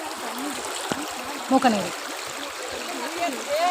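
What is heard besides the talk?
rainwater flowing in a stream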